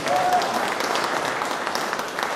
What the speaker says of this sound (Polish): Duże brawa dla prowadzących.